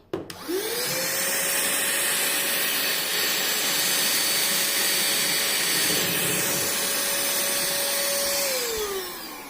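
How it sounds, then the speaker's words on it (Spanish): Vacuum cleaner with an accessory attachment sucking up lentils, starting with a click and a rising whine, then running as a loud steady roar and hiss close by before winding down. "Lo voy a encender, perdonad el ruido."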